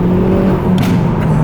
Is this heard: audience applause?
no